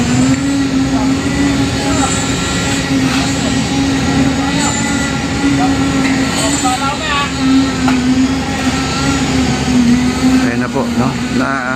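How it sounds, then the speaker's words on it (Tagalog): An elevated LRT train rumbles steadily overhead beside the Esplanade along the Pasig River, a loud, continuous low roar with screeching wheel tones, while someone talks close by. "At naririnig po natin yung ano, LRT, no? Yung train sa itaas,"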